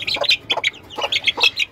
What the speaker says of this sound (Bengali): যে ফার্মি মোরগ